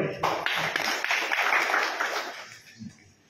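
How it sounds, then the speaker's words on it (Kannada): An audience at a Kannada literary council installation ceremony breaks into brief, loud clapping that swells for about two seconds and then fades out. "ಸೊ ಆ ಕಾರಣಕ್ಕಾಗಿ ಒಂದು ಜೋರ ಚಪ್ಪಾಳೆ"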